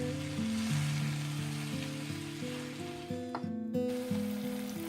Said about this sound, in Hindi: चिकन डाल के मैंने मिक्स कर लिया